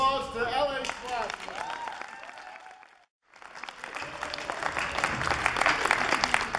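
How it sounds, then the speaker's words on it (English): Audience applause at a Salt Lake Comic Con panel, dense crowd clapping that swells after a brief lull, with a voice speaking over the start. "So a big round of applause to LA Splash."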